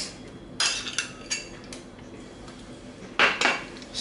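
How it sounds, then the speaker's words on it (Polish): Potato salad with eggs, chives and mayonnaise being stirred in a bowl: a few light clinks and scrapes of a utensil against the dish, close and quiet, irregular over a few seconds. "Dodajemy majonez."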